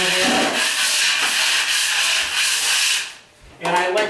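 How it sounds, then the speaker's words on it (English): A drywall knife scrapes joint compound flat on a wall for a Level 5 finish, a loud continuous rasping stroke that fades briefly before a second stroke begins. "I want to scrape off any boulders that I might have."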